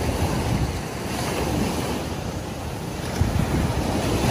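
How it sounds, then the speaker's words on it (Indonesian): Big ocean waves breaking around a small fishing boat, a loud, continuous roar of surf and water wash mixed with wind buffeting the microphone, with no clear separate crashes. "Awas ombaknya besar."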